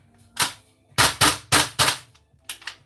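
A gas airsoft pistol is test fired indoors, five sharp loud cracks in quick succession, a single shot, then a rapid pair, then another pair, then two quieter pops after a short pause.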